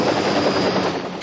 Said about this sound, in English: Big helicopter